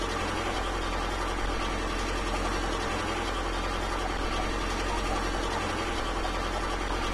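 Held at full throttle in The Long Drive video game, a car engine keeps up a steady, buzzing drone with a fine rapid rattle. It stays loud and unbroken throughout, with no talking.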